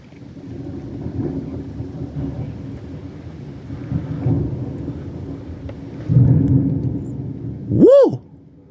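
Thunder from a strong thunderstorm rolls in low, deep rumbles that swell and fade several times, with a louder rumble near the end, followed by a short rising whine.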